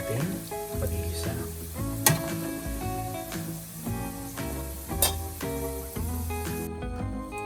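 Ingredients sauté in leftover oil in the same pan used to fry carrots and potatoes, a steady sizzle with stirring clatter and a couple of sharp utensil clinks, alongside background music.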